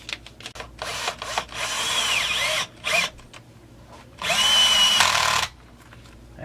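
A power driver runs M5 by 16 top cover screws into a Stihl MS440 chainsaw, giving several short whirring bursts and two longer drives with brief pauses between, close and fairly loud.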